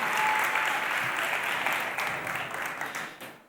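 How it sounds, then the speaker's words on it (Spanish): An audience applauds to welcome a guest onto a business podcasting talk, sustained clapping from many hands that fills the room at steady volume and fades out at the end. "Un fuerte aplauso para él."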